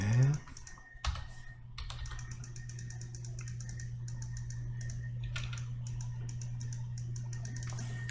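Computer keyboard keys tapped during photo editing of a long-exposure seascape, scattered clicks and short runs of presses over a steady low hum, with a voice speaking briefly near the start.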